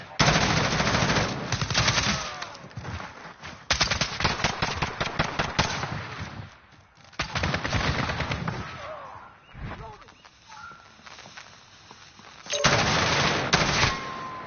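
Rapid automatic gunfire and single shots in Call of Duty Modern Warfare multiplayer, loud and repeated in bursts throughout, with short pauses and game voice callouts mixed in.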